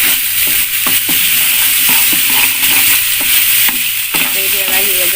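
Potatoes and carrots frying in a pan with fragrant aromatics, a loud steady sizzle under repeated scraping strokes of a spatula stirring them, close up with no voice.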